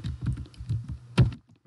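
Keystrokes and clicks on a computer keyboard at a desk while setting up software, a quick run of close taps through the first second followed by one firmer louder thunk, then quiet.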